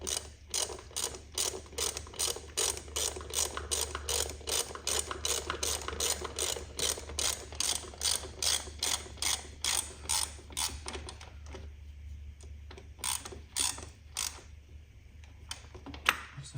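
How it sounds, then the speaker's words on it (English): A ratchet tightens the hex on the fuel filter of a Mercedes E350 CDI V6, clicking in rapid, even runs of sharp ticks that pause briefly and resume in shorter bursts, close and clear with no talking. "And tighten the hex back up."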